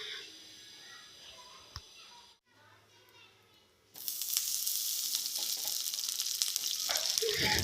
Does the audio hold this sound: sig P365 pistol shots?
no